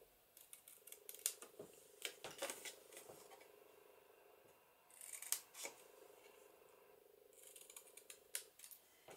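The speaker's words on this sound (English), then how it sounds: "Then I'm going to cut my corners out, just on an angle." Scissors snip paper corners at an angle for a junk journal, close and quiet. Repeated crisp clicks and short cutting strokes come in a few clusters, with the faint whir of the blades opening and closing.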